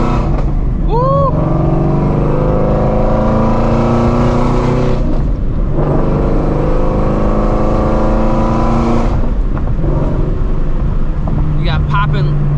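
Ford Shelby GT350 driven at night, its engine roaring loud and close through long pulls that rise in pitch, broken by brief lifts between gears and a few sharp crackles near the end.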